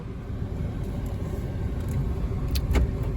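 A car heard from inside while driving on, with a steady low engine and road rumble, a few faint clicks and rattles near the end, and no talking.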